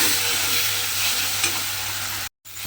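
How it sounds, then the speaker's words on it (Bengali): A spice paste with cashews and green chillies sautés in a pan with a dense, close sizzle and soft stirring, steady throughout until a short cut near the end. "দিয়ে মশলাটা আমি খুব ভালোভাবে একটু কষিয়ে নেব।"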